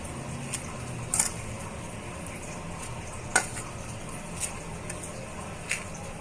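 Gram flour batter is stirred in a bowl, making faint, soft, wet squishing with a few light clicks of a spoon against the bowl, all quiet and close.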